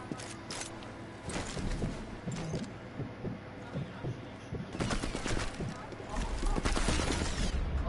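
Gunfire in a shooting video game, bursts of rapid shots with thuddy low-end impacts and a heavier burst toward the end, mixed with game noise at moderate level.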